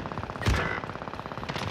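Gunfire in a video game: a rapid, even stream of automatic shots with one heavier blast near the start, close and continuous over a short stretch.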